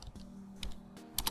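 Short command typed on a computer keyboard, with a handful of crisp, close keystrokes in an uneven rhythm over a faint steady hum, ending in a quick double tap.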